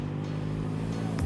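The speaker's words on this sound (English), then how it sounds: "Now here the exhaust is sounding really loud, specifically at lower RPMs around 2700 to 3800." A Kawasaki ZX6R or Triumph Street Triple motorcycle exhaust runs at low RPM during a ride, making a loud, close, steady droning rumble that shifts slightly near the end.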